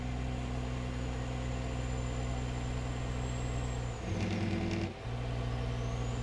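Diesel truck engine in American Truck Simulator heard from outside the cab while cruising, a steady droning hum with a brief shift in tone near the end, alone.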